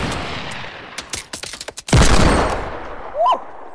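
Rapid bursts of video game gunfire crackle, a string of sharp shots building to a loud blast, followed by a brief whistling tone.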